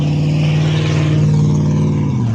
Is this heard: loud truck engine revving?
yes